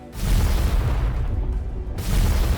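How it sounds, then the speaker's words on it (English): An energy shield burst detonates nearby in the video game Dyson Sphere Program, giving a deep, heavy boom that rumbles on for a couple of seconds, dips, then swells again near the end. "It just uses some of our shield to make an explosion nearby"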